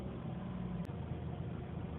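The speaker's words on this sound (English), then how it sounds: "after a little bit of revving and everything, keeping the car alive, it's actually idling really steady" A Mazda RX8 rotary engine idles with a faint, even low hum, steady and unbroken with no talk.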